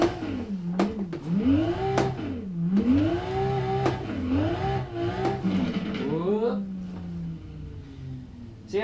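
Racing video game car engine revs up and down in repeated rising and falling sweeps, shifting through gears, moderately loud, with a voice talking over it.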